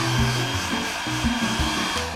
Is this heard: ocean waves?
no